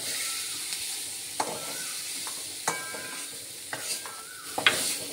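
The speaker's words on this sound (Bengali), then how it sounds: "একটু হালকা করে আমি বেশি ভাজলাম না কিন্তু চিংড়ি মাছটাকে হালকা করে একটু নেড়ে দিয়ে রাখলাম চিংড়ি মাছটাকে।" Prawns lightly stir-fried in oil in a wok for a Bengali banana-flower dish: a soft continuous sizzle broken by several sharp scraping stirs and clinks of the spatula, close by with no talk.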